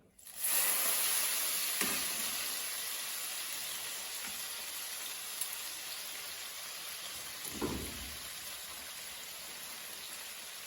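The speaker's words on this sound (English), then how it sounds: "We have the guanciale cooking" Guanciale frying over very low heat in a pan, a steady soft sizzle and hiss running throughout, with a couple of brief clunks from the pan or utensils along the way.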